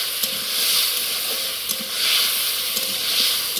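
Potatoes frying in hot oil in a heated kadai, seasoned with salt and turmeric, give a steady bright hiss that swells and eases, with a few faint clicks and no voices.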